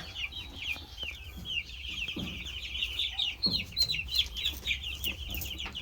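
A flock of about a hundred young chicks in a roomy new coop cheep continuously in high, overlapping peeps, with occasional lower clucks and shuffling beneath.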